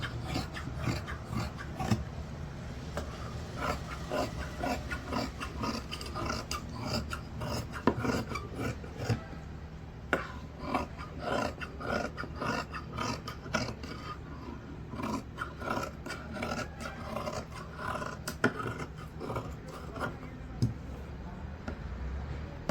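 Scissors cut through blouse fabric on a tabletop, giving repeated rasping, rubbing snips and rustles in an irregular rhythm, close and fairly quiet, with no talking.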